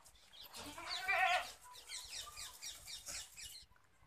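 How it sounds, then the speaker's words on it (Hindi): Barbari goat kids at a farm in Badaun, Uttar Pradesh, bleating several times in quick succession, loud and close, with overlapping bleats over a light background hum. "ये भाई 10 बकरी हैं"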